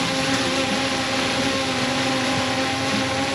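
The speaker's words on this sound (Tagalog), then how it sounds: "Okay guys, papalibad na tayo ng drone." DJI Mini drone flying close by, its propellers giving a steady high-pitched buzzing whine that stays constant throughout, with no talk over it.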